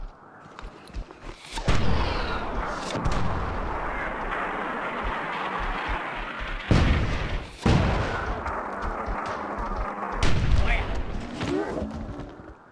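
Mortar rounds exploding among giant enemies in the Myth Redemption strategy game, several heavy thumping blasts with rumbling tails over a dense battle din, while someone talks over them.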